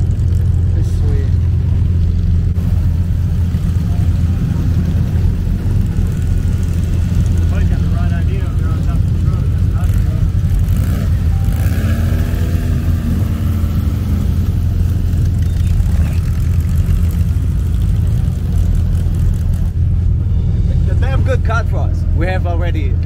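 Dune buggies rumble along the beach during a poker run, a steady loud engine drone holding throughout with passing engine swells, while people talk over it.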